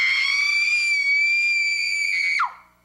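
A single sustained, high-pitched scream of a person crying for help, loud and close, held for over two seconds before breaking off and falling away abruptly, with no other sound around it.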